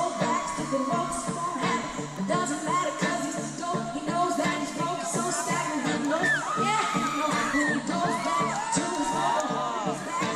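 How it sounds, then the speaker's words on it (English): Crowd cheers and shouts through a live cover song, heard from a played-back concert recording as a constant roar under loud singing and music. "The crowd's getting it too, dude."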